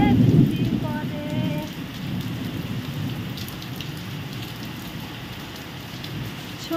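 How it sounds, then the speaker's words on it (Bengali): Heavy rain hisses steadily and close, dense drops drumming on surfaces with a faint low rumble underneath and no talking. "রিমঝিম রিমঝিম বৃষ্টি পড়ে"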